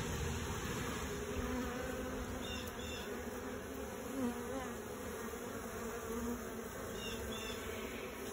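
Orphaned honey bees swarm around a rotted comb frame holding nectar, making a dense, continuous buzzing hum at close range that stays steady and fairly quiet, with no talking.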